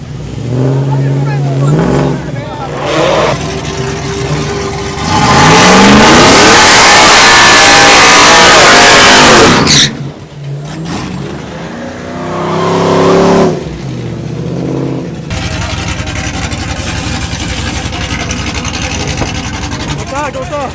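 Two nitrous-equipped drag-race trucks, one with a 6.0 engine, roar hard in a loud full-throttle surge that swells and cuts off, followed by further revving passes, with voices mixed in.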